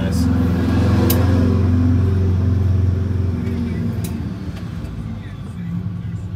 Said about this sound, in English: It sounds louder though. That sounds real throaty and nice.